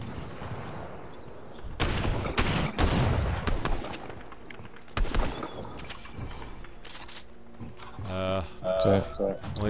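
Bursts of gunfire in the video game Fortnite, several loud clustered volleys and single shots separated by quieter stretches, with game sounds and some musical tones near the end.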